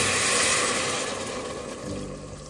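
Water poured into a pot of Castilian garlic soup in a home kitchen, a steady broadband splashing pour that is loud at first and eases slightly toward the end, with no voices.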